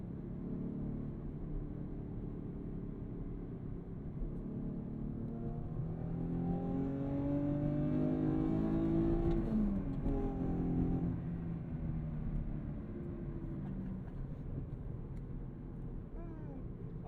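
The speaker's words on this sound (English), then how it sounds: "I personally like the sound of V6s" A modded V6 2019 Chevrolet Camaro 1LE drives along, its engine droning steadily, then swelling in a rising rev around the middle before settling back to a cruising rumble.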